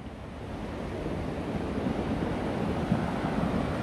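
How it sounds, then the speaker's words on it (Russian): Sea waves break across the whole beach, washing up as far as the beach chairs, a steady close roar of surf with wind buffeting the microphone, no voices. "А тут сегодня прям на весь пляж волна добивает."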